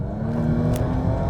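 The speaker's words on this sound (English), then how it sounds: "This is the top of the range 3-liter V6 supercharged. That on full tap like this," Jaguar F-Pace with a 3-liter supercharged V6 pulling at full throttle, a steady, loud engine drone with supercharger whine building briefly.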